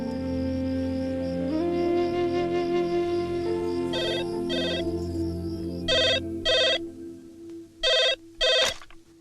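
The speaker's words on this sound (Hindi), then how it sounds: "सर वो घर से फोन था।" A home telephone rings in repeated double bursts, loud and close, over a soft sustained musical score in a quiet indoor scene.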